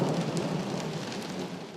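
Steady rain pours during a severe thunderstorm system over the Kansas City area, with a continuous broadband hiss and faint rumbling thunder underneath, fairly loud and with no talking.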